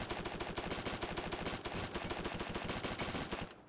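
UMP submachine gun in the game Swat 4 firing full auto at an oddly slow rate, a steady stream of evenly spaced shots for several seconds before it stops, close and loud with no talk.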